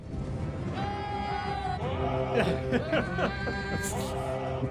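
A goat's wavering, tuneful bleats carry a TV theme over a sustained musical backing, with a few short laughing chuckles mixed in.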